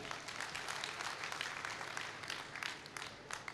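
Audience applause at the opening session of a national conference of a Jain social groups federation, a dense, steady patter of many hands clapping at moderate loudness throughout, with no voices standing out.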